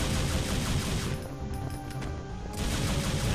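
Gunfire from the guns in the video game Devil May Cry: a dense, unbroken roar of rapid shots and noisy blasts, loud throughout with a slight dip midway.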